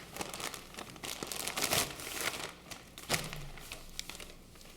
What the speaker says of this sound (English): I get to use Cynthia's fancy scissors